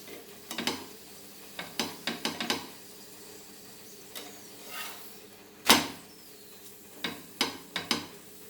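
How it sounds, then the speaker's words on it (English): A plain Goan paratha is turned and pressed on a hot pan, bursts of soft sizzle and scraping in short rhythmic clusters over a low hum, with one louder press midway and no talk. "Fry this nicely, all the sides."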